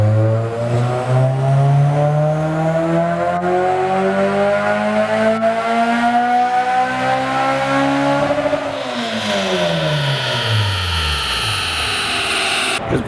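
A car revs hard at a dyno meet, loud rising engine pitch sweeping up for several seconds, then dropping sharply and rising again, with the roar close by.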